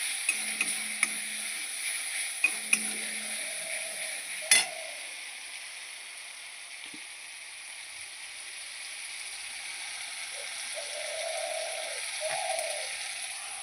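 A pan of egg, soybean and potato curry sizzles softly and steadily while being stirred, with a few sharp scrapes and knocks of the spoon early on, then an even low frying hiss.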